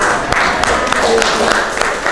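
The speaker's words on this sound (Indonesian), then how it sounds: "Tepuk tangan" A classroom group claps briefly, loud close hand claps in a loose rhythm with a murmur of voices underneath.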